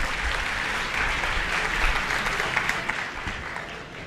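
Enthusiastic applause from an audience at a government school inauguration in Delhi, welcoming the education minister to speak; dense, sustained clapping from a large crowd, continuous for several seconds.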